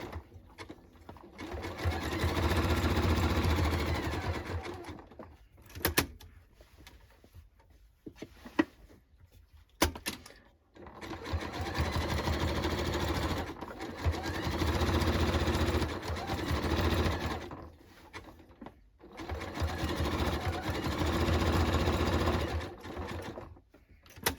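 A sewing machine stitches the back seam of a denim jacket, running in several long steady bursts separated by short pauses, with a faint voice briefly between runs.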